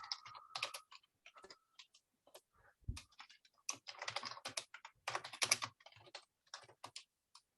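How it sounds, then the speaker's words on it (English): Rapid typing on a computer keyboard during an online database tutorial, with irregular bursts of clicking keystrokes and short pauses, fairly close and clear with no talking. "So I'll maybe type this in the chat."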